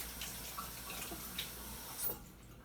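Food is rinsed under a running tap into a sink, a soft, steady close splash of water that briefly cuts off near the end, with no talk, while making Brunswick stew.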